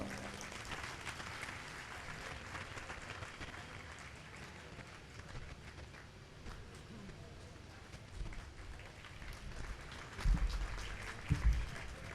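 At a gathering in Mariamabad, an audience applauds to welcome preacher Father Mukhtar Aalam, a faint, distant, steady patter of clapping with a few louder bumps and thuds near the end.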